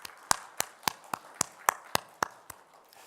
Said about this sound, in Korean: 우리 모두에게 우리 박수 한번 할까요?